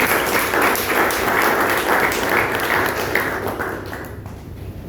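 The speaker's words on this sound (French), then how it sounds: "Nous l'applaudissons avec nous." A conference crowd at an apostolic session applauds, a full, steady roar of clapping that holds for several seconds before gradually thinning out and fading.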